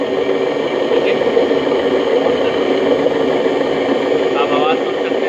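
Worn drum bearings inside the tub of a fully automatic washing machine, making a continuous grinding whir at steady loudness with a faint rattle throughout.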